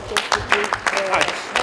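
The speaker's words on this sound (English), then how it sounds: "Give the youths a good round of applause." Audience applause honoring a group of youths at a public lecture plenary, a run of clapping bursts mixed with voices from the crowd throughout.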